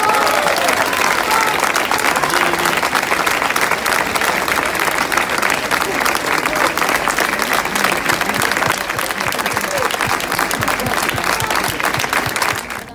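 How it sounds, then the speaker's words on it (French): A loud crowd claps vigorously and continuously for neighbourhood residents of Quatre Chemins at a street demonstration in Pantin and Aubervilliers, a dense sustained ovation with a faint background murmur. "Je vous remercie d'applaudir à tout rompre ces très belles personnes du quartier"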